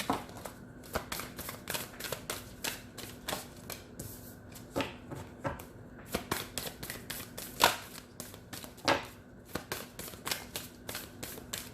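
Oracle cards are shuffled for a reading: a steady run of quick papery riffles and flicks, close and fairly quiet, repeating with short pauses and no talking.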